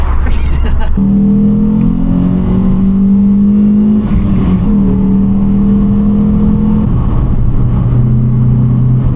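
A car engine drones loud and close with steady revving, its pitch shifting through gear changes over several seconds, with brief voices at the start.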